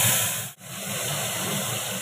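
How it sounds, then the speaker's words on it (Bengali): Tengra fish pieces fry in mustard oil seasoned with salt and turmeric, giving a steady, loud sizzling hiss that runs throughout with only a brief dip. "আর ট্যাংরার পিসগুলো ভেজে নিচ্ছি।"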